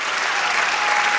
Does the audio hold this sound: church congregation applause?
yes